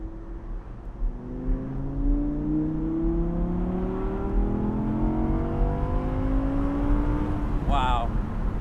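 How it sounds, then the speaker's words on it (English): Naturally aspirated V10 of an Audi R8 V10 Spyder convertible revving hard, rising harmonics climbing steadily as the car accelerates, loud and close throughout, with a brief higher whine near the end. "Naturally aspirated V10 engine, pretty hard to beat."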